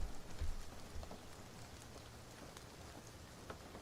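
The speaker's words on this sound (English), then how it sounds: "All I hear is raindrops." Raindrops fall in a steady soft patter on a surface, a continuous faint wash of rain with scattered individual drop ticks and no talking.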